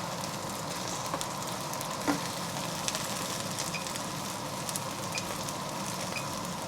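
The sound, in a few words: eggplant frying in oil, sizzling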